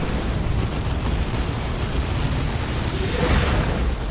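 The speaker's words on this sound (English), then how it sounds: "Stick bombs flying in." Ork stick bomb explosions in the video game Dawn of War 2 during a battle, a dense continuous roar of blasts and rumbling debris, loud and unbroken throughout.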